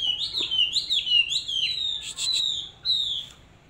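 A Chinese hwamei songbird in training sings clear, loud whistled phrases up close: rising and falling slurred notes repeated in quick succession, then a burst of harsher chirps and a final sustained whistle.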